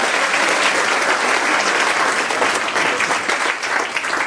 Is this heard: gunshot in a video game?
no